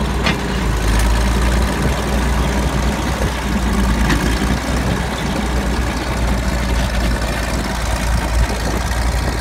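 A 1952 Caterpillar D6 bulldozer's heavy diesel engine runs steadily and loudly throughout, a deep continuous rumble with no talk over it.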